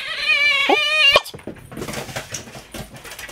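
A dog whimpers in high, wavering whines while playing fetch. A brief sharp yip follows, then quieter rustling and scuffling movement.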